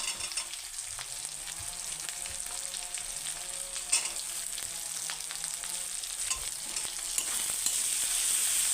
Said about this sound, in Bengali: এটাকে আমি হিট দিয়ে অল্প ভেজে নেব ধনিয়া গুঁড়ো মটরগুলো দিয়ে দিই